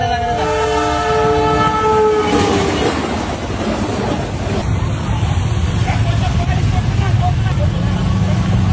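A train rumbles past close by, its horn sounding in long steady blasts at the start, with people talking over the noise.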